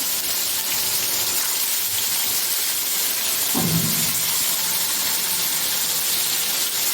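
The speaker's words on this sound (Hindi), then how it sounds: "तो थोड़ा सा मैंने तेल डाला कढ़ाई में, तेल गर्म होने पर मैंने बोटियाँ रख दी हैं ऐसे।" Chicken pieces sizzle in hot oil in a kadhai, a continuous loud crackling hiss like steady rain, with a brief low clatter partway through as the pieces shift.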